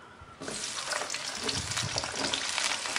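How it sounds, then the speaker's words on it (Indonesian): Cut eggplant pieces drop into hot oil in a wok and burst into a loud, steady sizzle that stays close and continuous, with no voices. "Kalau sudah panas kita mau masukkan terong sudah tadi kita potong-potong."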